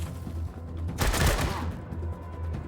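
Regular bullets fired in a Wasteland 3 battle burst as a single loud volley of gunfire lasting about half a second, with quieter game ambience around it; a voice talks nearby.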